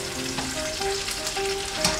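Bacon sizzles in a pan full of grease, giving a steady, close crackling hiss with faint clinks and pops and no voices.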